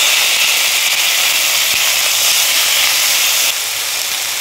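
Fiddlehead fern greens tipped into hot oil tempered with panch phoron give a loud, steady broadband sizzle and hiss that holds evenly for several seconds, easing slightly near the end, with no talking.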